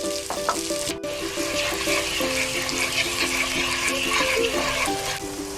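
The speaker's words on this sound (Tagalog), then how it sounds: "First, we heat our oil to saute our smoked sausage" Smoked sausage sautés in hot oil in a pan, giving a steady, close sizzle with occasional stirring clatter and faint tonal kitchen sounds, no talking.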